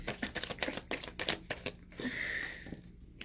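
Tarot cards are shuffled in quick riffled bursts, soft crisp flutters followed by a brief hiss, close to the ear.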